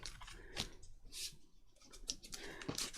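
Scissors snip through weak, barely sticky tape on a craft file folder project, several sharp close cuts at irregular moments amid faint rustling.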